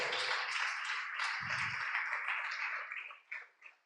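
A church congregation applauds, a dense wash of clapping that holds steady and then thins out and stops, with a brief low thump partway through.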